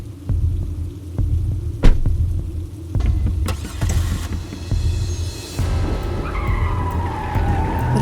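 An animated car drives off with a loud skid: rumbling engine noise and scattered thumps build into a long squealing tyre screech that bends up and down near the end.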